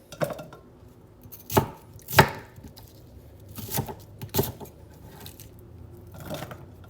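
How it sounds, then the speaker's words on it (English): Knife chopping half a medium onion on a board while making kimchi, a handful of sharp, separate chops spaced irregularly, close and fairly loud with no talk. "We got half a medium onion. Chop that sucker up, throw it in there."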